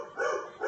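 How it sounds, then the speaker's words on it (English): A pet dog barks indoors in a home kitchen during cooking, giving one or two short, fairly faint barks heard alone. "He hasn't barked all morning until I go on camera"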